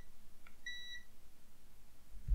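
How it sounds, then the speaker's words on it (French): Continuity beep from a Kaiweets HT118A True RMS multimeter: a single clear electronic tone lasting about a third of a second, close and alone over a quiet background. "si je touche, on a un bip de continuité"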